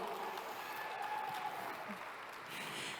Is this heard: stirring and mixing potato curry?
no